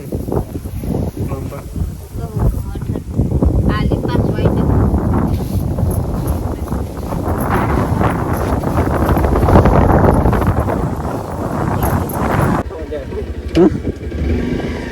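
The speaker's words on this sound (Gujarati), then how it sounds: "અત્યારે તો વાવાઝોડું બધું કરી ગયું છે પવન પણ ફૂટ આવી ગયો એકદમ પર પવન આવી ગયો" Strong storm wind roars and buffets the microphone in heavy gusts while a person talks over it.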